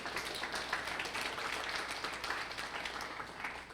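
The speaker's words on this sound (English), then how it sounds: "Can we give a round of applause for Laith?" Audience applause at a startup event welcoming a guest speaker: a steady, fairly soft wash of many hands clapping at a distance, with no single claps standing out.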